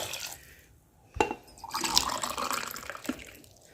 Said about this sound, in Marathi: आता आपण पाणी घालूया